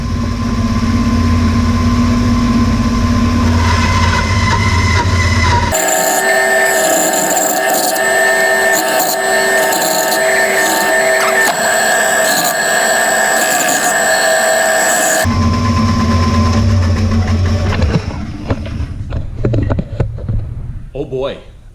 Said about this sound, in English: I'm going to put it on the bandsaw, and I'm going to rough cut that shape out